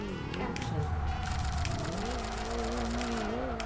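A car engine revs and rises in pitch in the video game Kaido Racer 2, its exhaust note swelling and settling with a steady roar throughout.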